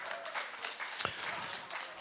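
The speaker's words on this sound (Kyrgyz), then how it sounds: "Бир кол чаап коюңуздарчы." Audience applause at a live comedy show, a brief, moderately loud patter of many hands clapping together, with one sharper clap standing out and no talk.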